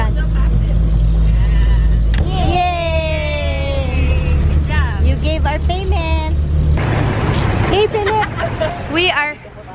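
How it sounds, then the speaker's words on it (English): Riding aboard a jeepney in Baguio, the engine drones low and steady throughout while several people talk and laugh over it. "So we're gonna ride a jeep here in Bagu."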